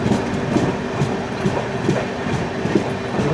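Rajdhani Express train rolling steadily on the Konkan Railway while overtaking the Mandovi Express, with a continuous loud rumble and repeated clickety-clack of wheels over rail joints, no voices.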